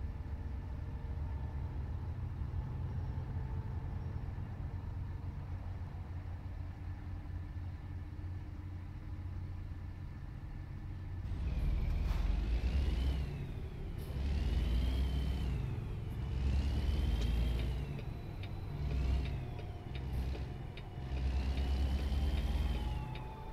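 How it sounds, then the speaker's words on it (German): A bus engine idles steadily in American Truck Simulator with a low, even drone, then roars louder as it revs and pulls away in several surging waves with brief hissing bursts. "Der Bus hat ein schönes Geräusch"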